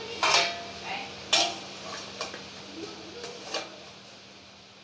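Metal clanks and knocks sound as a lid settles onto a pot of water topped with a sieve, a few sharp close hits and then softer taps over a faint steady hum.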